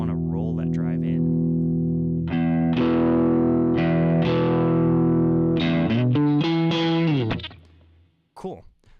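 Electric guitar with hot pickups driven through the overdrive on a Boss GX-10 into a low-gain amp, playing sustained distorted chords and a short melodic run up front, ringing out before a brief noise at the end.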